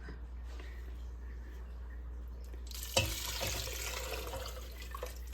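Beef broth pours into a pot of lasagna soup, starting partway through as a sudden splash that becomes a steady, close liquid rush over low background hum.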